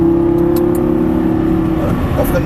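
A Lamborghini Gallardo runs on the Mettet race circuit during a driving course, its engine a loud, steady drone heard from inside the car.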